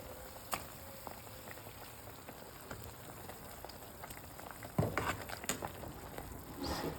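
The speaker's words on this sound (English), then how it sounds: "now we bring it to boil" Stock bubbles and pops steadily in a pot, a soft continuous simmer with scattered crackles, growing slightly busier toward the end.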